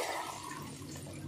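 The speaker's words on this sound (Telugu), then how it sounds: "ఇంకా వాటర్ ఇందులో వేసుకోవాలి, వేసేద్దాం" Water is poured into a mixer jar holding a ground spice mix, a faint, continuous splashing gush heard close and alone.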